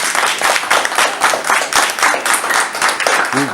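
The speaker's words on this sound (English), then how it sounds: "a round of applause." A small audience gives a round of applause for a colleague, a close, loud clatter of clapping with uneven bursts of individual hands, brief voices near the end.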